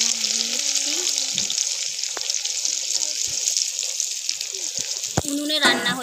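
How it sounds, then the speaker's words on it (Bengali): Onions fry in a pan over a wood stove with chilli and five-spice seeds, making a loud, continuous bright sizzle. A brief voice cuts in near the end. "লাল লাল করে ভেজে নেবো পেঁয়াজটা"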